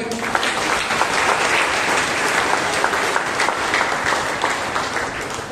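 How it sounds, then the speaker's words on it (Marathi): Church congregation at a Monday prayer meeting breaks into loud, sustained applause, dense clapping from many hands held at a steady level throughout, with no voices standing out. "प्रभूला टाळ्या वाजवूया"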